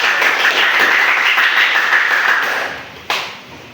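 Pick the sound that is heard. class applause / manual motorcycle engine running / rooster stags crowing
class applause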